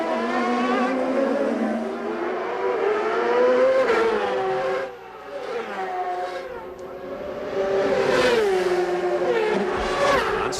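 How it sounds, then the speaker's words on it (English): CART race cars scream around the Long Beach street circuit in 1998, high engine notes rising and falling as they accelerate and pass, with a brief dip midway before another loud surge and no voices. "de Ferran and Castroneves remain the 2 fastest cars on the racetrack right now"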